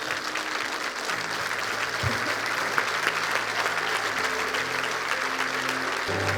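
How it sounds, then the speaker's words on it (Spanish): A church congregation applauds in a steady, sustained roar of clapping filling the hall, with a low hum of voices and organ-like tones underneath. "Le damos un aplauso al Rey de Reyes."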